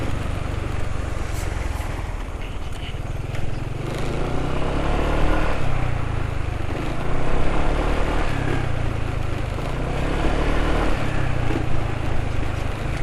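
Vespa scooter engine running on GGI Maxoil Power B40 oil, a steady, close, loud droning hum that holds a fairly constant level as the revs ease down slowly, with no voices over it.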